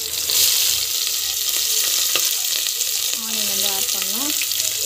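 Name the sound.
onions frying and being stirred in a pan for jackfruit biryani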